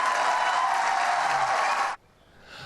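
A large crowd at a Bernie Sanders campaign rally in South Carolina applauds in a steady, dense wash of clapping that cuts off abruptly, leaving quiet room tone.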